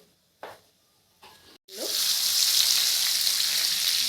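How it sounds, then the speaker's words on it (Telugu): Turmeric and cumin seeds dropped into two spoons of hot oil for a carrot and potato curry, starting with a few soft clinks and taps, then a loud, steady sizzle up close that keeps going. "టూ స్పూన్స్ ఆయిల్ తీసుకుంటున్నాను కొంచెం పసుపు జీలకర్ర తీసుకుని"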